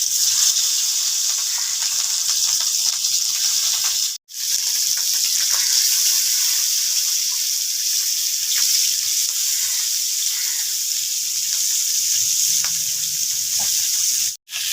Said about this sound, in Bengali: এবার দিয়ে দিব সর্ষে তেল এবার আমি মাছগুলোকে ভেজে নেব এগুলো হচ্ছে রুই মাছ